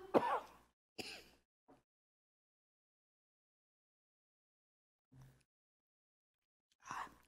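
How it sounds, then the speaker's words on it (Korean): Several short, sharp coughs separated by long silent gaps, close and fairly loud, with a softer one in between. "기침이 자꾸 나네요."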